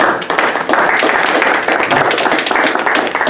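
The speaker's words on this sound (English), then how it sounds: "Could you please give me a round of applause for doing that?" Applause at a city council meeting, a loud, dense burst of many people clapping at close range that continues without a break for a few seconds.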